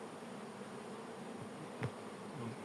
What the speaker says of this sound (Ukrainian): Як бачите, медозбір соняха триває. Льот досить непоганий.